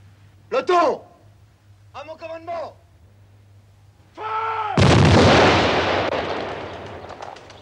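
A gunfire volley from a firing squad in 1972 French drama Les fossés de Vincennes bursts out loudly after a few short spoken words, a dense crack that then rolls and decays over several seconds.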